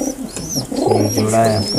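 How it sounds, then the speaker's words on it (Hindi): A white highflier (girebaaz) pigeon coos in a low, rolling rhythm close by, with a bird's brief chirps and a man's speech over the start. "ये पकड़ा दूसरा कबूतर।"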